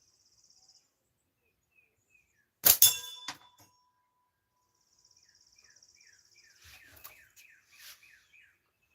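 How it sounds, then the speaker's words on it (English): A single sharp metallic clang rings out and decays quickly, followed by faint ringing and chirping insects in a quiet outdoor setting. "when it hits, it goes"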